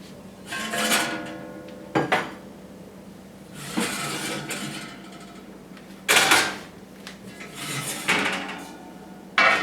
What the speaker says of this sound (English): So I'm going to get my pans out.